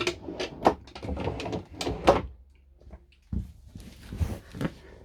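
Washroom drawers in a 2022 Carthago Chic C-Line I5 9 XL QB motorhome being opened and shut, a run of sharp knocks and slides close by, followed after a short pause by a few softer rattles.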